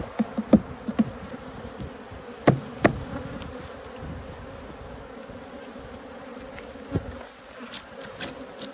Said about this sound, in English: So I'm going to shake these bees off